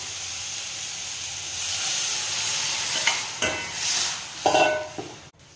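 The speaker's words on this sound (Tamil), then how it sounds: "இப்போ வந்து நம்ம வந்து கரைச்சி வச்சுருந்தா புளி தண்ணியை ஊற்றிடலாம்." Oil sizzles and hisses steadily in a pan, broken by a few splashy bursts and stirring scrapes as tamarind water is poured in for a lentil-dumpling kulambu.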